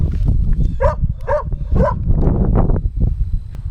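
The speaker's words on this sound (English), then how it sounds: "I don't want Bella to be barking." A dog barks three times in quick succession, close and loud, with a roomy echo on board a sailboat, followed by rustling and handling noise.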